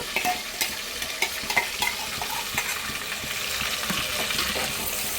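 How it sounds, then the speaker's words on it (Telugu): Onion paste frying in a pan, a continuous close sizzle broken by scraping stirs and a few clicks, with no talk over it. "ఉల్లిగడ్డ పేస్ట్ వేసిన తర్వాత ఇది కొంచెం వేగాలండి, గోల్డెన్ బ్రౌన్లోకి రావాలి."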